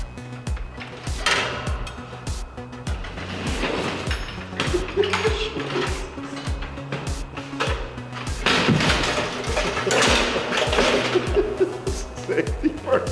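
Demolition crews stripping out a building interior, with repeated clattering bangs, knocks and scraping debris close by, overlapped by voices speaking.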